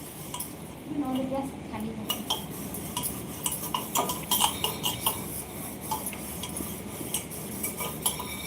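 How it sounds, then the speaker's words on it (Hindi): Dishes being washed at home, including a pressure cooker being scrubbed after cooking dal, with repeated clinks and scrapes of metal utensils, close and moderately loud, while someone talks over it. "और सबसे कंझट काम लगती है कुकर के साफ करे।"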